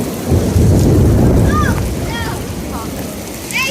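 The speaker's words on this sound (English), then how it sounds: "Did you hear that lightning?" Loud, close thunder rumbles through a flash-flood storm at Eagle Mountain, a heavy rolling roar with rain that slowly fades, while faint bird chirps come through near the end.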